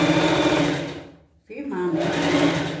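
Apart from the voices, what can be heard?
sewing machine stitching a pet costume dress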